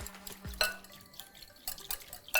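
Dry yeast being stirred into water in a bowl for panettone dough, soft scattered clinks and light liquid swishes, quiet and close with brief pauses between strokes.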